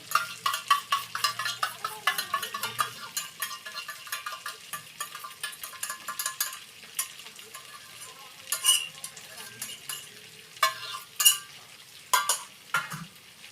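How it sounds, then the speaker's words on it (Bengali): Ground coriander-cumin paste frying in a pan at home, a steady close sizzle with frequent scraping and clinking of a spoon stirring against the metal, no talking. "ধনে জিরে বাটা ছিল সেইটা আমি আগে দিয়ে দিলাম"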